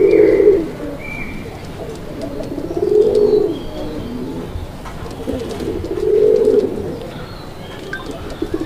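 Domestic desi pigeons, including a maxi-coloured bird, coo close by in three deep, rolling bursts spaced a few seconds apart, with faint chirps and quiet room noise between them.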